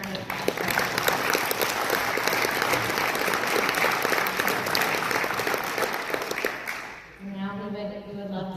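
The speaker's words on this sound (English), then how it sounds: "a quick round of applause" An audience at a panel session breaks into sustained, dense applause for several seconds before it fades and a voice begins speaking.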